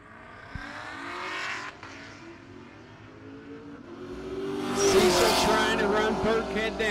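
Drag racing cars at a no-prep event at Muncie Dragway, including a ZL1 Camaro, launch and accelerate hard with loud engine roar rising to a screaming peak, tire squeal mixed in, under a commentator's voice.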